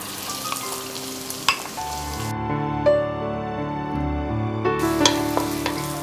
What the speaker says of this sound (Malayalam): അപ്പോൾ എണ്ണ ചൂടായി കഴിഞ്ഞാൽ ആദ്യമേ തന്നെ ഒരു സവാള ചെറുതായിട്ട് അരിഞ്ഞ് വെച്ചത്, ഒരു വലിയ സവാള, അതാണ് ചേർക്കേണ്ടത്.